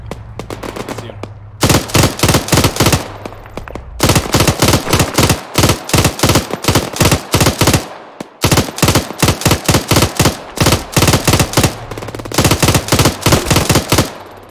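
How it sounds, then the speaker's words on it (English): Heavy automatic gunfire in the military game Arma 3, loud, close bursts of rapid shots separated by brief pauses, running almost continuously. "Got a suppressive fire on that building."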